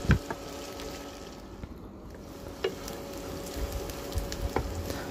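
Sliced green bananas sizzle in hot oil in a pan, a steady soft crackle with a few sharper pops and clinks.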